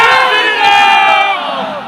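A large crowd at an open-air Bhojpuri stage show cheers and shouts loudly together, a sustained roar of many voices with rising and falling pitch, close and intense throughout.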